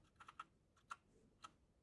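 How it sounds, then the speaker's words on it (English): Someone types a short command on a computer keyboard: a quiet, uneven run of separate key taps with brief pauses between them, ending in a sharper, louder press. "you can use a utility called nslookup to manually look up an IP address for a specific domain name. Let's try it by typing"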